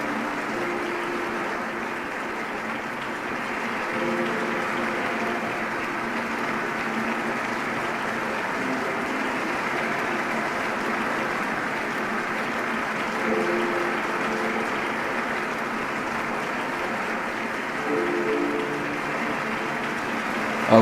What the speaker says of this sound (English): And now let us give a round of applause as the new members are welcomed to Heavenly Parents' Holy Community.